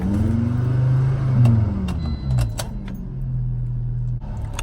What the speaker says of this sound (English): let's just go for a little drive